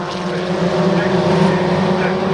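Historic Formula Ford racing cars pass at Oulton Park, loud continuous engine drone with steady tonal hum under commentary talk throughout.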